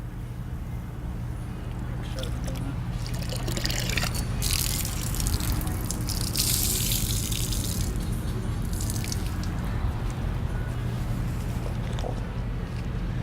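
A car-wash mitt is swished and rinsed in a bucket of water and rubbed against a dirt trap, giving soft splashing and sloshing bursts that come and go beneath a talking voice.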